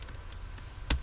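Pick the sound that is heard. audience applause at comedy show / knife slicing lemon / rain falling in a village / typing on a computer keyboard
typing on a computer keyboard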